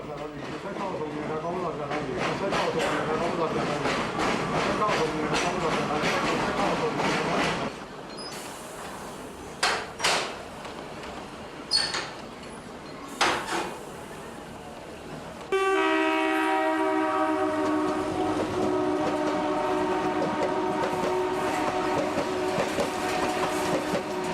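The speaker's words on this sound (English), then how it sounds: "every time a train passes through, the station master offers the train his best wishes" A train passing through a railway station, with broadband rumble and rattle followed by several short horn-like blasts, then a sustained tonal horn or whistle with harmonics that holds steadily to the end.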